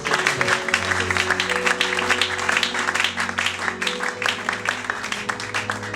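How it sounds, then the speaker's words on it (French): A church congregation applauds and cheers for their pastor, a dense, steady wash of clapping filling the whole stretch, with a sustained musical tone humming underneath. "Est-ce qu'on peut acclamer encore pour lui?"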